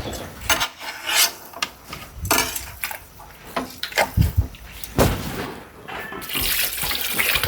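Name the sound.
stirring arroz caldo in a pot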